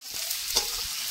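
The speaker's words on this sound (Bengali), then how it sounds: "সবজিগুলো ভাজা হচ্ছে।" Carrots, beans and capsicum stir-fry in oil with salt for fried rice, a brief close sizzle with a couple of stirring scrapes.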